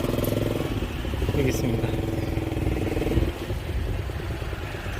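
Motorbike engines idle and rev in a crowded, maze-like parking area in Da Nang, a dense steady mechanical rumble with clatter, while someone speaks briefly over it.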